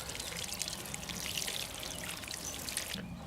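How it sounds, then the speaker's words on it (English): Water pours steadily onto soil in a tomato plant container in a soft, continuous hiss and trickle, close by, stopping abruptly at the end. "water in a few more times here, and just make sure it sinks all the way down"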